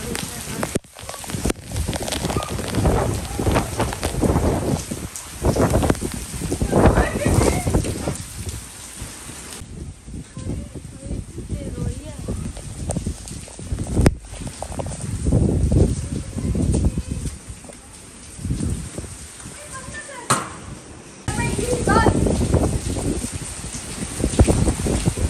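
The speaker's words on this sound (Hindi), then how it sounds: "मैं आपको अभी इसकी आवाज़ें सुनाती हूँ, इतनी प्यारी और इतनी ज़्यादा बारिश हुई है" Heavy rain pours steadily, a dense hiss of drops hitting surfaces that swells and eases in waves over a long stretch.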